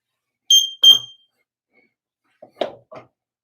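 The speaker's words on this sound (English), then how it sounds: "So we're gonna check for our bells going off here." SCBA air pack alarm during a firefighter equipment check: two short, shrill electronic chirps in quick succession, followed by a pause and a few faint, brief knocks and rustles.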